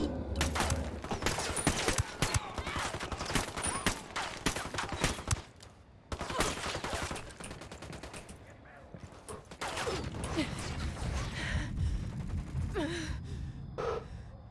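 Dense rapid gunfire from Ghost Recon Wildlands, sustained fusillade bursts of close, loud shots crackling nearly nonstop, briefly easing around the middle before more volleys resume.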